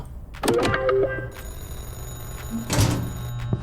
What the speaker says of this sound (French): Ah, il y a le téléphone qui sonne, déjà?